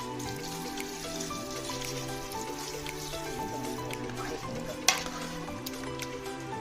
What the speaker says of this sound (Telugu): సరిపోయిన వాటర్ పోయాలండి